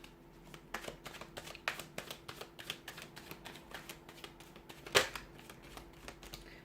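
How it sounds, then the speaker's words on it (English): Tarot cards being shuffled by hand, producing a quick run of soft, close papery riffles and taps with one sharper snap partway through, heard alone. "So we're going to give the cards a shuffle here"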